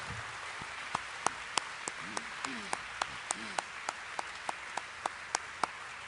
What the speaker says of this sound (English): join me in a hearty round of applause for our members of the Hall